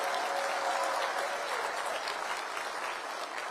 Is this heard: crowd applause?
yes